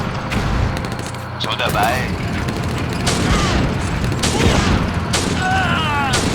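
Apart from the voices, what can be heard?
enemy gunfire and shelling in the video game Blitzkrieg Anthology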